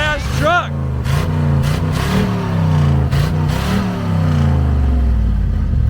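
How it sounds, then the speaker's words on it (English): A 1971 International Travelall's engine idles and revs with a deep, steady rumble up close, with a short squeal at the start and a few sharp clacks. "It purrs like a kitten."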